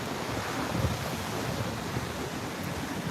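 Atlantic Ocean surf rolls onto Juno Beach in Florida, a steady broad wash of breaking waves mixed with wind rumble on the microphone, constant and fairly loud with no talking.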